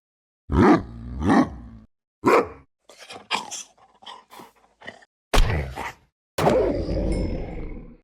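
Big wolf variant from the Minecraft video game, snapshot 25W08A, giving a series of deep growls, grunts and barking roars in short separate bursts, ending with a longer drawn-out whine, loud and close with no speech.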